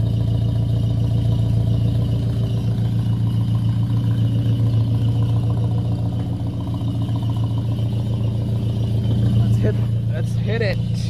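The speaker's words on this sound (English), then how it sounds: "The idling on these, you know, it just gets me." A 1979 Chevrolet Caravan with a carbureted V8 idles close by with a deep, steady, slightly lumpy rumble that holds even throughout, and brief talk comes in near the end.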